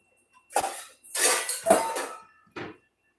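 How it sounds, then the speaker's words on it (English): Raw meat tipped into a stainless steel bowl on a homestead kitchen counter, giving a few short clattering metallic knocks and scrapes in separate bursts, close and fairly loud, with no talking. "Transfer this meat into this stainless steel bowl"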